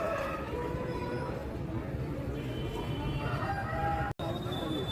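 Roosters at a Machilipatnam chicken market cluck and call amid a busy crowd murmur, with someone talking over the steady background bustle.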